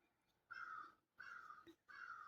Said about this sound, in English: There's the crows.